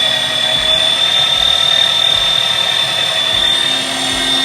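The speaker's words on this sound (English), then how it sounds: "All right, we're grinding." A Meat Your Maker 500 watt electric meat grinder works through beef chuck with a loud, steady motor whine and high pitched hum, running continuously and close up.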